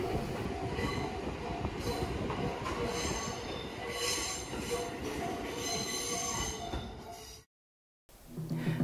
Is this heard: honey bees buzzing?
no